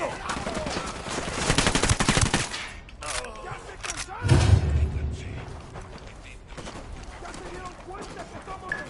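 Video game gunfire in Ghost Recon Wildlands, set in Bolivia against the Santa Blanca cartel: bursts of close automatic shots and heavy thuds, loud early then thinning to scattered reports, with voices talking over the fighting.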